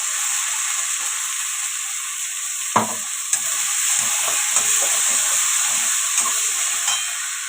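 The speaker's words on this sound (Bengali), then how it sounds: "দেখো পেঁয়াজটা ভাজা হয়ে গেছে টমেটো পেস্টটা দিয়ে দেবো" Tomato paste hisses and sizzles as it fries with onions in a pan for dal makhani, a steady close sizzle broken by a sharp clatter and several stirring scrapes, no talk.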